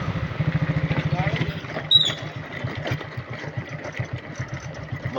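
A vehicle engine chugging along a rough off-road forest track near Kadambur in Sathyamangalam, Erode district, with a rhythmic low throb that shifts and continues unevenly, heard close under someone talking.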